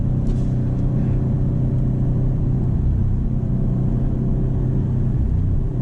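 A 2025 Maserati GranCabrio Trofeo pulls hard under acceleration, a steady, full-bodied engine rumble droning evenly and close for several seconds with no break.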